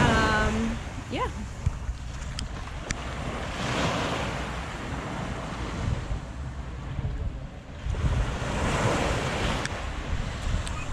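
Surf rolling onto Seven Mile Beach, Grand Cayman, a broad steady wash of breaking waves with surges roughly every few seconds, roughened by wind buffeting the microphone, and a voice speaking faintly over it at the start.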